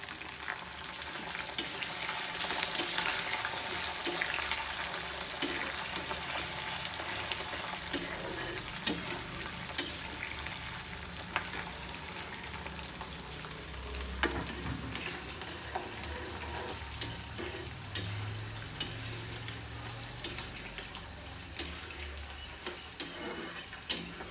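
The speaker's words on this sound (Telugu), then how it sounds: "తర్వాత పచ్చిమిర్చి వేయాలి" Green chillies frying in hot oil for pulihora, a steady close sizzle with frequent scraping stirs and small ticking clicks throughout, no voices.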